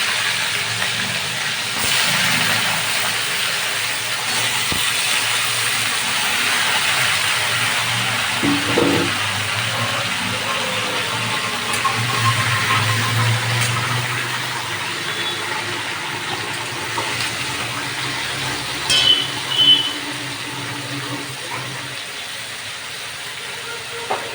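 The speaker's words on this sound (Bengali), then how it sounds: "দারচিনি এলাচ আর লবঙ্গ এবার আমি চিকেনটাকে এর মধ্যে ছেড়ে দিলাম" Chicken pieces dropped into hot oil tempered with cinnamon, cardamom and cloves hiss with a steady, broad sizzle that runs throughout, with a few brief louder spits along the way.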